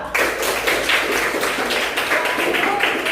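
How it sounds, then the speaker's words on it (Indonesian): A classroom of students claps for a presenting group, a loud and fairly rhythmic burst of hand claps with a pulsing beat that carries on through the whole stretch. "tepuk tangan untuk kelompok 2"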